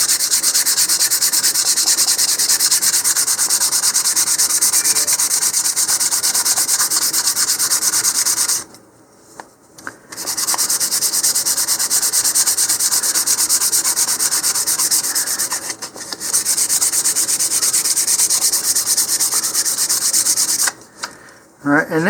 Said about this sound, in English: I'm going to shift to some 220 grit sandpaper